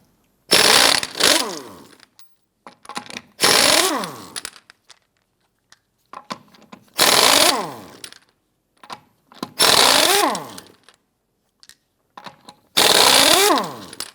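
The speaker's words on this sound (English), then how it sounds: "we want to go ahead, loosen, and remove these lug nuts" A power impact tool loosens and removes the lug nuts from the rear wheel of a 1997-2006 Jeep Wrangler in repeated loud, close bursts of whirring and rattling hammering, separated by quiet gaps with small clicks.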